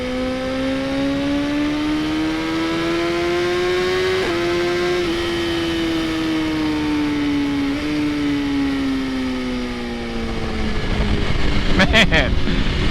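A 2020 BMW S1000RR sport bike engine drones steadily and close, its pitch rising slowly then easing off, with a sharp rev near the end as the rider accelerates; no talk over it.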